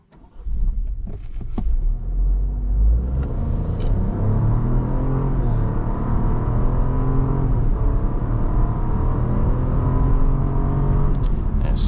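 A 2025 Chevy Trailblazer RS at full throttle, heard from inside the cabin, gives a loud, continuous engine rumble that builds and holds for about twelve seconds with no talking.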